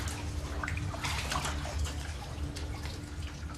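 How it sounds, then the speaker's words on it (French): Water of an underground river flowing through dark cave galleries, a steady rushing and splashing wash with a low rumble, close and continuous throughout. "Elle emprunte des galeries obscures et remonte le lit d'une rivière souterraine."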